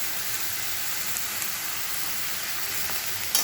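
Ridge gourd and potatoes fry in a pan with salt and turmeric for a poppy-seed dish, giving a constant close sizzle with faint scrapes from stirring and no speech.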